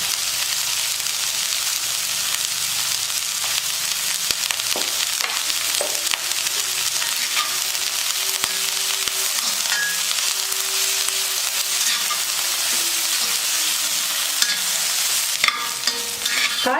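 Mixed vegetables stir-frying in a pan with a little salt for restaurant-style egg fried rice, a steady loud sizzle with scraping stirs and utensil clinks running throughout.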